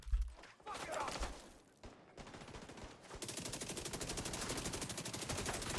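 Rapid automatic fire from the Slingshot SMG in The Division 2, a dense, steady burst of shots with short pauses between strings, fairly loud in a busy game mix.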